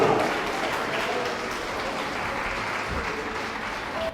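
A church congregation applauds in a steady, dense wash of clapping that holds at an even level throughout.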